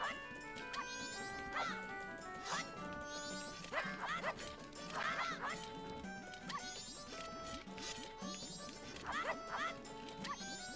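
A dog in the video game Majora's Mask barks again and again in quick, yappy bursts, mixed with busy game sound effects and a voice talking over it.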